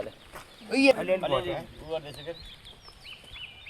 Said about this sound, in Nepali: दुईटा हो पोथी अरू सबै भाले